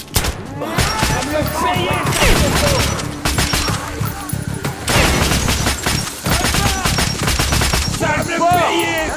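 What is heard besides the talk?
gunfire in the video game Metro Last Light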